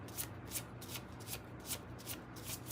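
Tarot cards are shuffled in a steady, repeated rhythm, each riffle a soft crisp flutter recurring about every half second, close and quiet with no talking.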